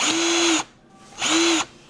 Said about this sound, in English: And now the drill.